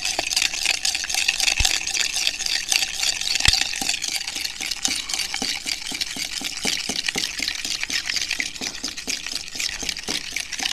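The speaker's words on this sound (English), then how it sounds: "Then you're going to take your spoon and mix the borax in there really well, so about all of it dissolves." A spoon stirs borax into a glue mixture in steady, rapid rhythmic scrapes and wet swishes that run throughout at close range, with a couple of sharper clicks. Nobody speaks.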